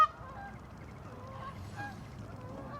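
Geese honking at a pond: a few nasal, wavering honks from more than one bird, moderately distant and soft over a low outdoor rumble, without talk.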